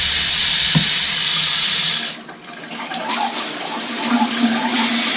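Running water hisses steadily from a faucet with air in the water lines, briefly dropping off before resuming with an uneven, gurgling spray.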